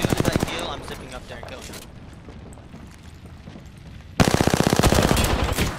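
Rapid automatic gunfire from a multiplayer shooter game, loud dense bursts at the start, a quieter stretch with muffled background action, then another sustained loud burst near the end.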